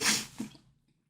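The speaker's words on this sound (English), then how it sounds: "Oh, I'm gonna sneeze." A single sharp sneeze bursts out close by, followed by a brief softer exhale that trails into quiet.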